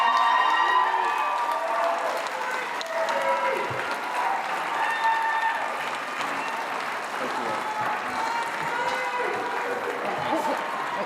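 Sustained applause from the audience at a 2022 Ohio US Senate Republican primary debate, a dense steady clapping that fills the hall, mixed with crowd murmur and a few voices talking underneath.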